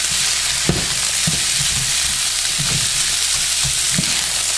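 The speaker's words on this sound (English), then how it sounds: "Stir everything up." Fried rice with a knob of butter and broken-up egg sizzles steadily in a frying pan, close and loud, while a utensil scrapes and stirs through it in irregular strokes.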